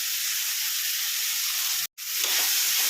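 Tomatoes and turmeric fry in a pan for a hotel-style chicken sambar, giving a steady, close, bright sizzle that drops out for an instant and then resumes.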